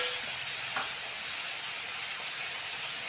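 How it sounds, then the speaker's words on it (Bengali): Capsicum, tomato and boiled noodles fry in a hot pan, giving a steady, fairly soft sizzling hiss with a faint stir or two, heard alone without speech. "ক্যাপসিকাম, টমেটো, ভালোভাবে নেড়ে চেড়ে নেব।"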